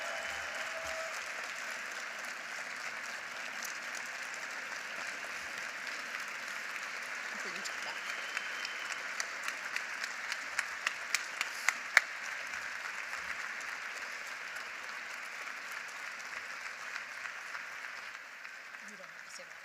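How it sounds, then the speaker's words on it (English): A crowd at a downtown partnership breakfast applauds steadily and at length for a longtime leader, a dense sustained patter of many hands with a few sharper claps standing out, fading slightly toward the end. "one more round of applause"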